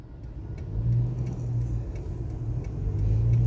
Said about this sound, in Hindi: पेट्रोल पंप पे गाड़ियों का रश है